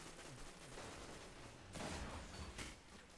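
Rapid gunfire from a Destiny Crucible match crackles in dense bursts, with a louder volley in the middle, all set low in the mix.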